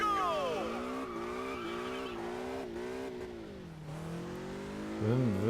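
A race car engine in Test Drive Unlimited on PC whines at a constant pitch, its tone climbing and dropping with gear changes and revs, fairly quiet.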